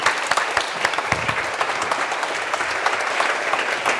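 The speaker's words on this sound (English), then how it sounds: "if we could all thank His Serene Highness in the customary way by standing and applauding as he exits" Audience at the Cambridge Union rising to their feet and applauding Prince Albert of Monaco as he leaves, a steady dense clapping from a large room that holds even throughout, with no talk over it.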